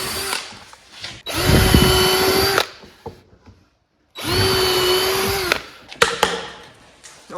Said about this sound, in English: I'm kind of pre-drilling some stuff so I don't split